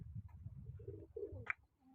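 Soft, low pigeon cooing, faint and close, in a quiet setting, with a brief sharp click near the end.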